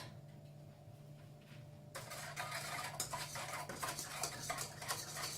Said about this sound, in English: Give that a little stir around.